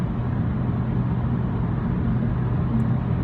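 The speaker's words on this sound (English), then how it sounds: "There's a lot of tire noise, a little bit of wind noise" Steady low road roar and tire hum fill the cabin of a 2018 Audi S5 Sportback at highway speed, with a faint rush of wind over it, constant and even throughout with no talking.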